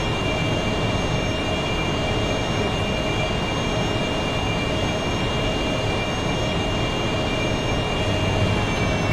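Continuous roar of an AV-8B Harrier jet coming in to land in a flight simulator, a steady broadband engine rush with a high whine on top, loud and unbroken throughout.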